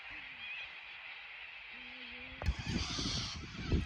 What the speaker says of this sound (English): It's a bizarre sound from a flock of birds.